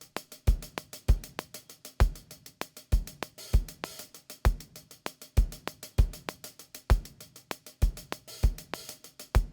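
A programmed Afro-Cuban style drum groove built in a DAW, with sharp kick and percussion hits driving a steady syncopated loop and busy ticking accents between them, alone and without voices.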